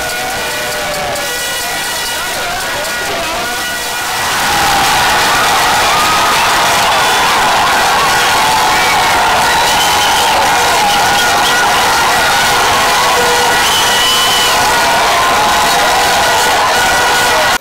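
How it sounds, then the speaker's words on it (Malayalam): Football fans in the streets of Tirur, Kerala, cheer an Argentina World Cup win, a loud dense crowd roar with shouting that swells after a few seconds and stays loud throughout. "തിരൂർ നഗരത്തിൽ ആരവമുയർന്നു"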